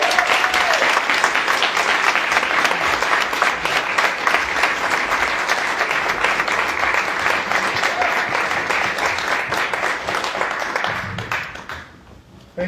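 Sustained applause from a crowd at a campaign event as Michael McCain is welcomed to the stage, dense clapping filling the room for about eleven seconds before fading out.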